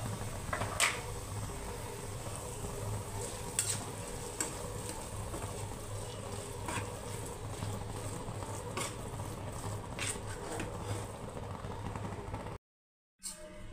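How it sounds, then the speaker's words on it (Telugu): Marinated vanjaram fish fries in a pan, giving a quiet, steady sizzle with occasional scraping stirs and a low fan-like hum underneath, no talking, ending with a brief dropout. "ఈ చేపంతా కూడా మనకి కొంచెం వాసన పోయే వరకు వేగించాలి."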